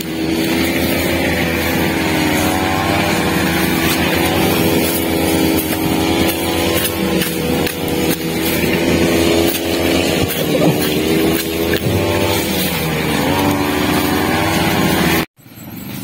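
A grass cutter motor drones loudly and steadily while cutting weeds in a string bean field, holding a buzzing, slightly wavering pitch for about fifteen seconds before cutting off abruptly.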